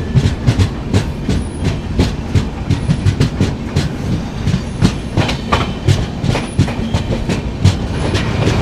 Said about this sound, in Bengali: ট্রেন আমাদের ছেড়ে বেরোচ্ছে বাগডোগরা